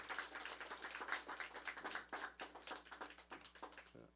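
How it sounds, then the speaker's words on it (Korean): Applause from a church congregation during a Korean Sunday worship service, a quiet, steady patter of many hands clapping at some distance with a faint low hum underneath, fading toward the end. "다시 한번 하나님께 영광의 박수 올려드리겠습니다"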